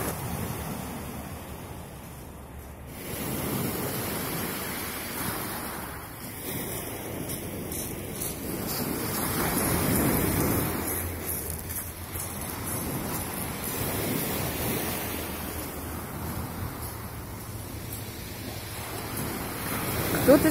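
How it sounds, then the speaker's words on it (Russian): Large sea waves surge and wash ashore under steady wind after rain, with rolling swells rising and falling in broad, continuous surf. "Волны такие крупные, красивые"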